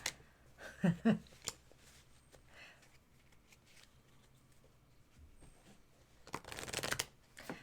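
Lenormand cards are shuffled by hand in short bursts of soft riffling and flicking, faint and close, with quiet rustles and a cat nearby, ending in a longer, louder shuffle.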